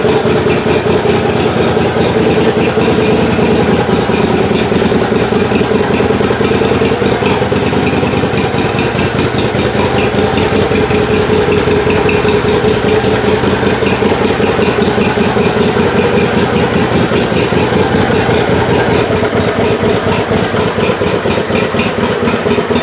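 Engine idling steadily after a full-choke start, a continuous close, even rumble with fine regular pulsing that holds unchanged throughout, no voices.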